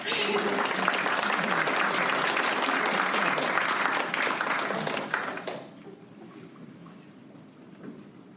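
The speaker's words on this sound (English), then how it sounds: "A big applause." Audience applause at a Sydney community event fills a conference hall, a dense, steady clapping that runs loudly for about five seconds, then cuts off into quiet room tone with faint murmurs.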